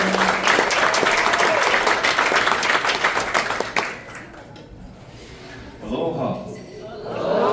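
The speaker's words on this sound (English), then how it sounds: "give him a nice round of applause" A theatre audience at a late-show Christmas performance of A Charlie Brown Christmas breaks into loud, dense applause lasting several seconds. The clapping stops abruptly, and a voice then speaks alone.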